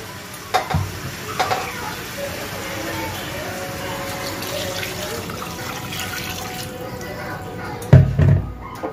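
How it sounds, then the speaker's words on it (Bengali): Water is poured into a pan of fried, spiced potatoes for aloo dum, setting off a loud, rushing sizzle with a few clanks of the pan and utensil, ending in sharp bursts near the close. "এবার আমি এটা জল দিয়ে দিব।"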